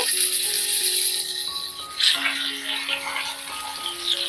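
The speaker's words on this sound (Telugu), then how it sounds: "నూనె వేడెక్కింది కదా ఇంకో చేప ముక్కలు వేస్తున్నానండి" Fish pieces sizzle and crackle steadily in hot oil, a dense close hiss with a brief louder spatter midway and a tonal background hum throughout.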